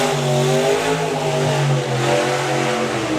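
Supercharged outlaw drag racing car at a drag strip, its engine revving in a loud, steady, harmonic-rich drone with slight pitch swells, close and alone.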